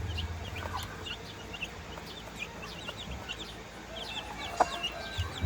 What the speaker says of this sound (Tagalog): Makikita ko lang sa inyo yung napapisa nating native chicken.